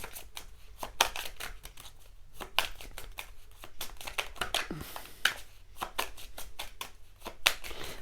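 Tarot cards riffled and shuffled by hand in repeated crisp bursts of papery flutter, close and fairly quiet, with soft handling noises between the bursts.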